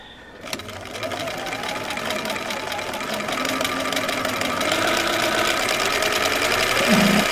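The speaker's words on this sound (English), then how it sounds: "Switching it down to stitch" A Bernina 930 sewing machine runs pattern 17 through a heavy quilt, its rapid, steady needle rattle close and loud, the pace picking up slightly over the run, with no talking.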